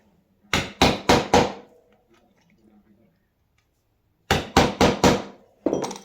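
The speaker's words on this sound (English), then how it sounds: "I'm going to put 2 holes in the bottom of a jar lid." Sharp metallic taps from punching two holes in the bottom of a metal jar lid, heard close as two separate clusters of three or four quick strikes with quiet between them.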